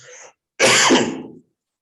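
A single harsh, explosive cough bursts out loudly after a brief breathy sound, then fades to silence.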